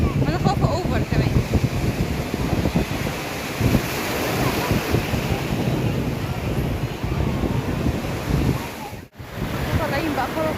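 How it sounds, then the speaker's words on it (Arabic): High sea waves breaking and surging at a beach, loud and continuous with heavy wind buffeting the microphone and a brief dropout near the end. "الموجه عاليه"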